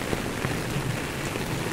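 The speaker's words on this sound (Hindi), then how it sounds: "आप बारिश की आवाज़ बैकग्राउंड में सुन सकते होंगे" Heavy rain pours steadily in Lucknow in a dense, even hiss, close and continuous, with no other sounds over it.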